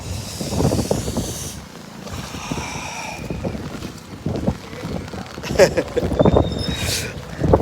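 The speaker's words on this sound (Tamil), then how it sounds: "காற்று சரியான காற்று விடுதுங்க" Strong storm wind at the seashore in Thoothukudi buffets loudly in uneven gusts, roaring and rumbling against a surface with water sloshing beneath.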